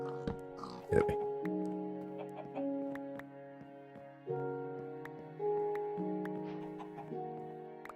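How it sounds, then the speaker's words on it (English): Pigs in the Minecraft video game give several short, close oinks over layered background music, with a brief voice near the start. "Pigs."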